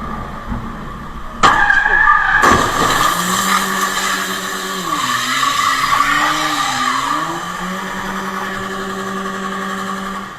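A car skidding on an icy road in an ice storm gives a sudden harsh burst, then a wavering tire squeal and engine whine over steady traffic noise, fairly close and loud.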